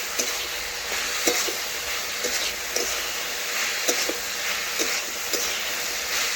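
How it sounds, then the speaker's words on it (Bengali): Vegetables for a vegetarian Kolkata pice-hotel-style dish fry in a pan with a steady sizzling hiss, and a spoon stirring them makes soft repeated scraping taps. "দেখুন এইভাবে বেশ কিছুক্ষণ ধরে আমি আবারও ভেজে নিচ্ছি।"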